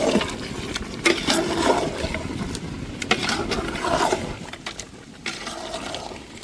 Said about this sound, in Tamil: அதுக்காக நம்ம தண்ணி ஊற்றுறோம்.